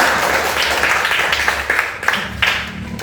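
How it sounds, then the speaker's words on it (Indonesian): A class of sixth-grade primary school students claps together during a Christian religious education lesson, a dense, steady patter of hands lasting a few seconds, fairly close and with no talking over it. "tepuk tangan untuk kalian semua"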